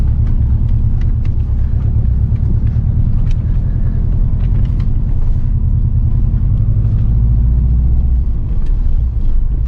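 An all-wheel-drive Subaru WRX drifts along a rough road, its engine and tyres giving a loud, steady, rumbling drone with no pauses, heard from inside the car.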